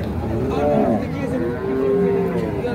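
A Holstein Friesian bull calf on a farm in Chandpur moos in a drawn-out call over steady background noise and people talking.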